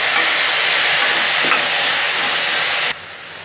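Onion and five sambar vegetables sauté in a pan, producing a loud, continuous close-up sizzle that drops sharply in level just before the end.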